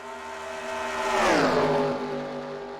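A pack of race cars, including a Chevrolet Camaro, passes at Daytona in a racing video game, with layered engine roars rising and then dropping in pitch as they sweep by, loud and close.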